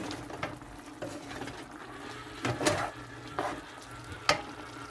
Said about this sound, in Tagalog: Papakuluan ko na lang po para lumambot. Nakulo na po. Haluin po natin.